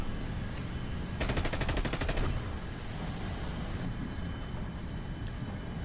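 Aircraft guns firing in a flight combat game with a MiG-17, a single rapid burst of about a second over a constant engine and wind roar that continues after the shooting stops.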